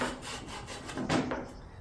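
Dry rubbing and scraping along wooden trim during removal and rot repair, a steady close-up friction with one louder swell near the middle.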